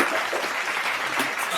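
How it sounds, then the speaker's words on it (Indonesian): A short, soft wash of applause from a small group at a campus talk-show gathering, steady and fairly distant throughout. "Tepuk tangan dulu atuh."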